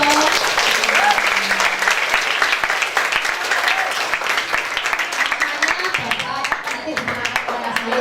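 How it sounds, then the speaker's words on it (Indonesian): School scouts at a Surabaya junior high event break into sustained group applause for a librarian guest speaker, a dense steady clatter of many hands with voices audible beneath it. "tepuk tangan dong"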